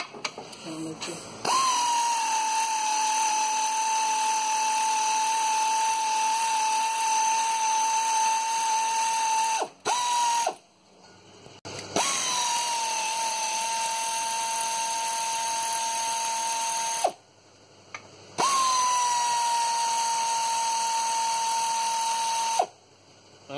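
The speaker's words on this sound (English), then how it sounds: "I'm going to take these bolts off and try doing this with one hand." Power tool whirring in three long, steady bursts while removing gearbox bolts on a 2008 Skoda Octavia 1.9 TDI, its high whine sitting close and loud with brief pauses between runs.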